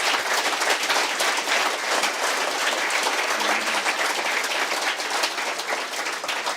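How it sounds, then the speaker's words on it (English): Sustained audience applause for the lecturers at a public lecture, dense and steady clapping from a large crowd filling the whole stretch without pause. "I want you to give one final round of applause to our lecturers."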